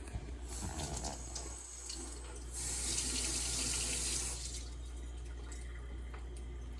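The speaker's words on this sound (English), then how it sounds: "you want the water in the pan so that it will steam" Water runs and splashes into a pan to steam soufflé pancakes, a steady hiss rising to a stronger pour for a couple of seconds and then easing off, over a low background hum, with no talking.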